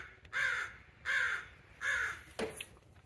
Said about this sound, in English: Crows yelling at me up there.